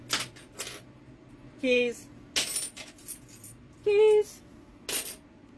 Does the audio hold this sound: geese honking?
no